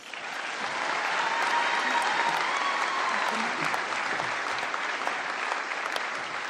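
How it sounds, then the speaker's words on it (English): A graduation ceremony audience gives a big round of applause, a sustained wash of many hands clapping that swells in and holds at a steady, moderately distant level throughout. "Can we give Wendy a big round of applause?"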